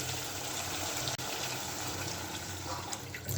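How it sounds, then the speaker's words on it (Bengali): Curry broth poured into a pan of egg curry, a soft, continuous watery gush and trickle at low volume with one brief break, no talking. "এখন ঝোলটা দিয়ে দেবো"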